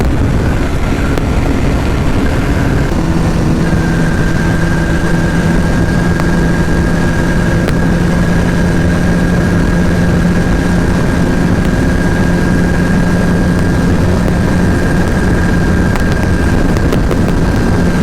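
A fully modified Honda CBR150R motorcycle engine runs under way with a steady droning hum and a faintly rising tone, loud and close throughout, with wind rush mixed in and no voices.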